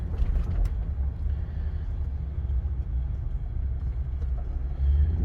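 A car passes on a road at night, a low rumbling roar that swells and fades steadily, with faint mechanical clicks at the start and no talking.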